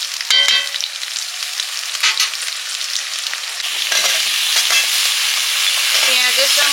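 Spice paste with chilli powder and water sautéing in a pan, a constant hissing sizzle broken by scraping stirs, with a louder burst of frying toward the end.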